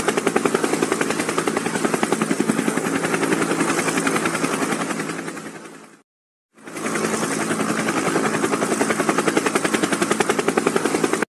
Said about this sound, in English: let's get in the other helicopter